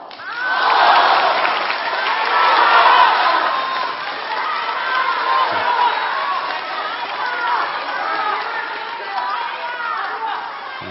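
A live crosstalk audience cheering, laughing and clapping at a Deyunshe storytelling show, a loud burst of crowd noise that eases into lingering chatter and scattered applause.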